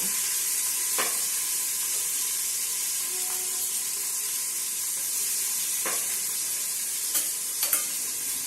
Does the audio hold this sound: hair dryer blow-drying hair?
no